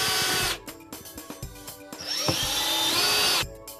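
Power drill driving screws into the panels of an oven housing appliance unit during assembly, a steady whirring burst, a stretch of short ratcheting pulses, then a longer rising whine, close and loud with no talking.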